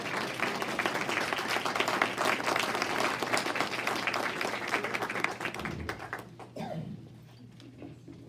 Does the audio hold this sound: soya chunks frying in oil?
no